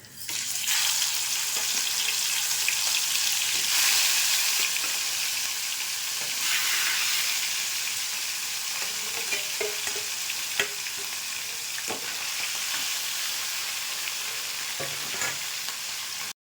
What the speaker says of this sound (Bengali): তেলটা গরম হয়ে গেছে, মাছটা দিয়ে দিচ্ছি।